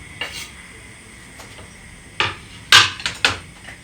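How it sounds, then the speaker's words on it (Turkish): Onion sautés quietly in a pot while a utensil scrapes and knocks against the metal a few times, with short bursts of stirring. "Soğanın kokusu çıkana kadar kavuracağız."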